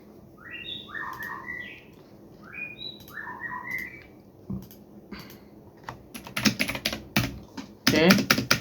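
Quick bursts of computer keyboard typing as a command is entered, close and moderately loud, following bird chirps in the background.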